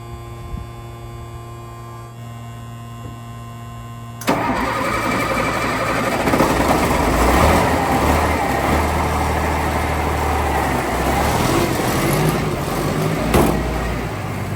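A Deuce and a half military truck engine cranks and fires up, then settles into a loud, steady running rumble close by after a few seconds of electrical hum, with no one speaking.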